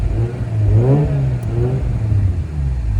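Close engine of a bridgeported Mazda RX-8 revs up and down in loud, rising and falling sweeps, with a clattering drivetrain fault underneath; no speech.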